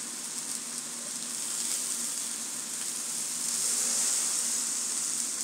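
Steak searing in a pan heated to 400 degrees, a steady, loud sizzle and crackle of frying that holds constant throughout with no talk.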